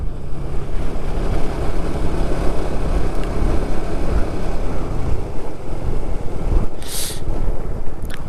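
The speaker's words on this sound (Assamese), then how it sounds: "উৰি বাবা কি ঠাণ্ডা বতাহ মাৰিছে" Cold mountain wind buffets the microphone on a solo motorcycle ride from Tawang to Sela Pass, a steady loud roar of rumbling gusts that fills the whole clip with no talk.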